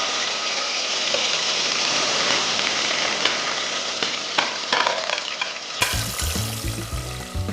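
Tomatoes cook in hot oil for an Ethiopian mushroom stew, giving a steady close sizzle with scattered crackles and pops, joined near the end by low clattering stirring.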